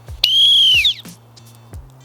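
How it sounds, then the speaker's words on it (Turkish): A single shrill whistle blast sounds loudly for about half a second, followed by quieter outdoor noise and a few faint knocks. "Düdük çaldı."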